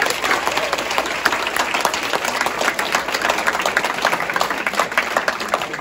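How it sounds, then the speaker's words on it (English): A crowd at a high school band event cheers and applauds steadily for several seconds, dense clapping with shouts mixed in, loud and continuous throughout. "let's give one more cheer"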